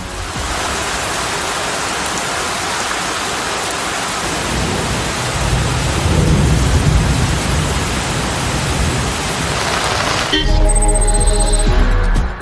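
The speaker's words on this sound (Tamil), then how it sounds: "மற்றும் சுற்றுவட்டார பகுதிகளில் 1 மணி நேரத்திற்கு மேலாக இடியுடன் கூடிய கனமழை பெய்தது" Heavy rain pours in a continuous loud hiss during a thunderstorm over hilly country, with deep thunder rumbling underneath, and the texture shifts sharply near the end.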